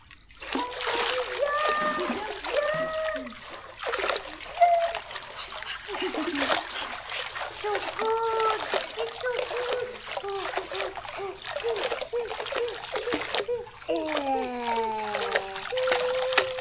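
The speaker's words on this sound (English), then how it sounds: "Splash!" A child splashes in water while swimming, with repeated close splashes and sloshing under frequent excited voices of adults and children talking and calling out.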